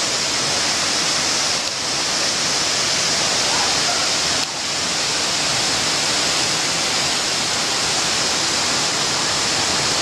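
Steady, loud rush of falling water from the seventh tier of the Pha Sawan waterfall, a dense unbroken roar filling the whole clip with no voices.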